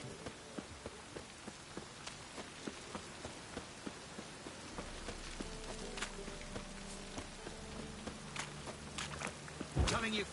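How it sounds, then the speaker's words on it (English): Steady rain pattering on surfaces in the open-world fantasy game The Witcher 3: Wild Hunt, a continuous soft hiss with scattered drop taps and footsteps, a low hum rising midway and a louder thud near the end. "Rain again."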